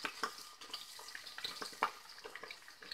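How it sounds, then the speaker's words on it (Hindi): Paneer pieces frying lightly with onions in a pan, a faint, quiet sizzle broken by small clicks and stirring sounds. "अब इसमें हम ये पनीर के टुकड़े डाल देंगे, इसको भी हमें हल्का सा भूनना है"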